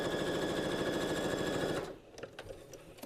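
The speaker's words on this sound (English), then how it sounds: "I'm gonna sew down this side like this" Sewing machine stitching fabric along a marked line, a steady rapid motor whir with fast needle rhythm for nearly two seconds before it stops, leaving faint handling noises.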